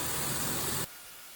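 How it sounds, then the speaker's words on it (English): A spray gun puts bonding primer onto a thrift-store furniture piece inside a painter's tent, giving a short, close, steady hiss that cuts off sharply partway through. "When spraying, make sure to overlap each stroke so you get a consistent, smooth looking finish."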